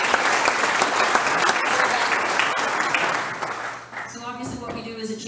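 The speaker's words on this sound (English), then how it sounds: "So let's give them a round of applause" Banquet audience at a county chamber of commerce membership dinner applauds sponsors, loud dense clapping that tapers off near the end before a voice resumes speaking.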